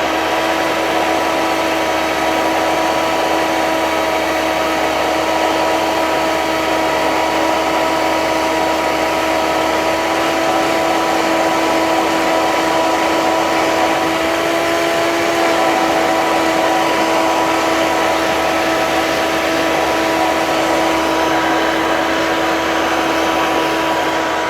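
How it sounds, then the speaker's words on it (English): A refurbished Hoover Turbopower Freedom U2262 cordless vacuum cleaner running on full power, sucking sand off a floor and workbench: a loud, steady motor whine and airflow roar, unbroken throughout, no voices. "Okay, now let's vacuum it up"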